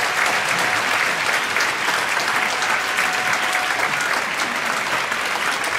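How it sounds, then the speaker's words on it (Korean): Loud, dense applause from a church congregation during a Friday night worship service, continuous and evenly sustained throughout with a faint crowd murmur underneath. "박수 한번 치겠습니다."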